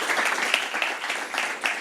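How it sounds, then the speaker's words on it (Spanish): A seated crowd at a communications event applauds a speaker being welcomed to the stage, a brief, even burst of many hands clapping at moderate distance. "Un fuerte aplauso para Jorge."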